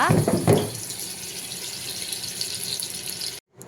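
Butter and oil sizzling in a pan while preparing dum biryani, a steady hissing crackle with a few louder spattering bursts at the start, continuing evenly before cutting off abruptly near the end.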